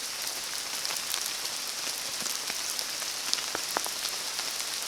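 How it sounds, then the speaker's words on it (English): Rain patters steadily on a leaf canopy along a woodland walk at Kingscross, Whiting Bay, on the Isle of Arran, a continuous soft hiss broken by scattered louder drips close by. "so that was the sound of the rain in there"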